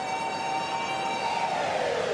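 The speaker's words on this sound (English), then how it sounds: "There is the siren." A half-time siren sounds at a rugby league match in Auckland, a steady, loud, sustained tone that holds and then slightly bends lower toward the end, with a busy stadium noise beneath it and no talking.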